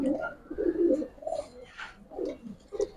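Homing pigeons in a loft give soft, low, repeated coos in short bursts, close and fairly quiet.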